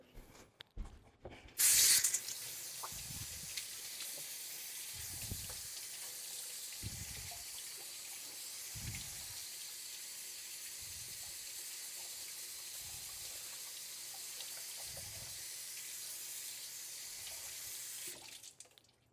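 Running tap water streams steadily into a kitchen sink as a vegetable is rinsed, a continuous hiss lasting most of the clip with occasional soft knocks and handling thumps underneath, no talking.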